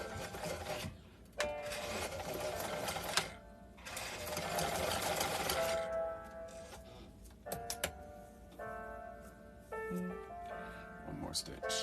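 Close, busy sewing machine stitching comes in uneven bursts of rapid clatter and whir, with a person talking over part of it.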